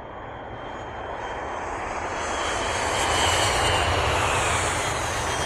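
An airplane flies overhead, its broad engine roar swelling gradually louder and holding near its peak as it passes, with no voices.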